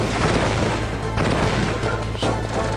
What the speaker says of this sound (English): Oh god, I shot a missile.